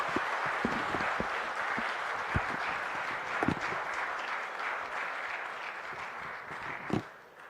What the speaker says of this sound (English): So please give again a huge round of applause.